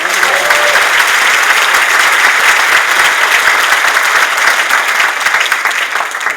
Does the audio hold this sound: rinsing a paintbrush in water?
no